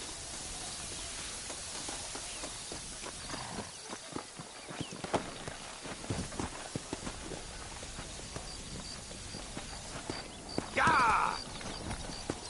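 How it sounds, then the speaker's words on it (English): Horse hooves clip-clop at a walking pace in Red Dead Redemption, a close, steady rhythm mixed with game ambience, a brief whinny-like sound near the end, and a voice calling out once. "There should be some horses for us across the way."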